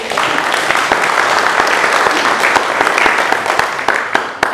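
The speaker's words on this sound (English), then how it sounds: "So a huge round of applause for the team leaders." A church congregation claps for its team leaders, a loud, dense, continuous round of applause that fills the room for several seconds, with a faint murmur of voices mixed in.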